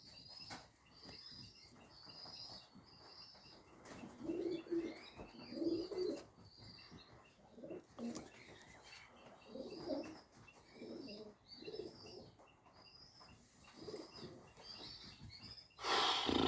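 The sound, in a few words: racing pigeon cooing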